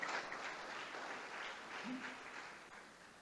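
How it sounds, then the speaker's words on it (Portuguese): A church congregation claps in praise, a faint, distant wash of steady applause lasting a few seconds. "Dá um aplauso ao Senhor"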